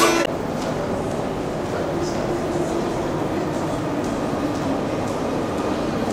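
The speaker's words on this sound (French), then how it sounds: "il n'y aura jamais eu autant d'ambiance dans un RER" Inside a Paris RER commuter train, a steady rumbling rail noise carries on throughout, with a crowd of voices chattering in the background.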